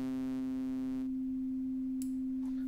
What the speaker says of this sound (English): we get back to a perfect sine wave